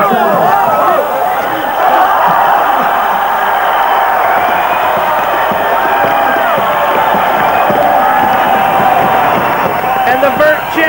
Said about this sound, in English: Another round of applause for the girl.